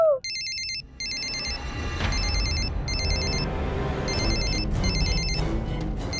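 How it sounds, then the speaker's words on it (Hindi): A phone rings in repeated electronic bursts with short pauses, loud and close, over a low background rumble. "फोन अवश्य आएगा"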